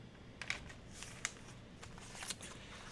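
Paper for a junk journal is folded in half, giving faint, close crinkles and several soft, sharp creasing snaps in an otherwise quiet room.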